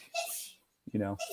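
A short sneeze bursts out amid brief, faint voiced sounds, close and quick within a moment of speech-like noise.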